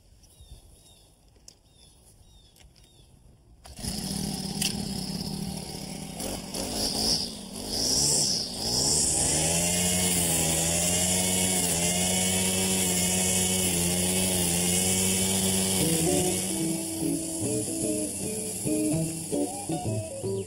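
A small propane string trimmer engine sputters to life after a quiet moment, then runs with a steady buzzing drone that rises and settles, close by.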